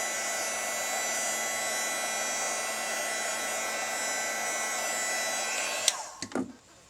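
Heat tool blowing to dry mixed media paint on an altered card case, a steady loud whirring hum that runs almost six seconds, then cuts off with a few clicks and handling sounds.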